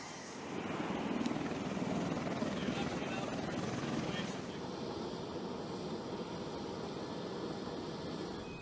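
A King Stallion heavy-lift helicopter flies overhead, its loud, steady rotor roar and turbine whine filling the air without pause, swelling slightly near the start and then holding constant.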